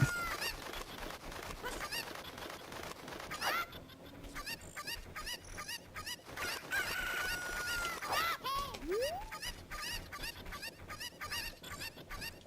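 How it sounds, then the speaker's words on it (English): Chickens clucking and a rooster crowing in a Zelda video game, with repeated short clucks and squawks over a busy game soundtrack, moderately loud and continuous, no speech. "Please pick up the chicken."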